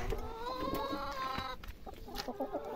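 Chickens cluck steadily and close by as they eat fed banana on a farm, with overlapping calls and pecking sounds throughout and no talking.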